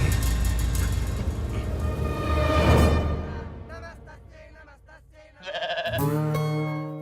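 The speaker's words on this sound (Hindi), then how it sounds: "अरे बकरा कहाँ गया?" A goat bleats in a comedy film scene, heard among loud music and effects. Strong harmonic cries come near the end, and voices speak as well.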